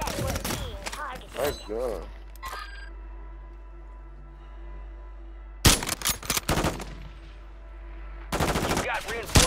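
Gunfire in a Call of Duty game: rapid automatic bursts crackle loudly at the start and again in two later bursts, with quieter stretches between. A player shouts at one point.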